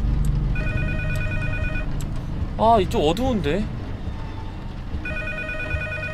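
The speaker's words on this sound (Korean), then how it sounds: "전화벨 소리가 나죠? 점점 가까워집니다." A ringing telephone in a horror video game, repeated tonal bursts at the start and again near the end, with someone briefly talking in between over a low rumbling background.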